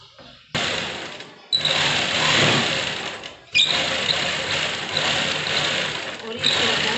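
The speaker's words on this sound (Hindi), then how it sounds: "हम अपनी राउंड शेप की सिलाई को पूरा कर देंगे।" A sewing machine stitches a round-shaped seam on palazzo pants in two long, steady runs of fast mechanical whirring and clatter, separated by brief pauses, heard close and fairly loud.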